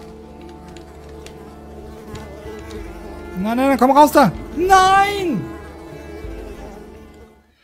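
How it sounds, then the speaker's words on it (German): In the video game Unravel, mosquitoes in a moor give off a thin, steady insect drone while someone shouts excitedly over it. "Diese blöden Mücken sind auch todnervig."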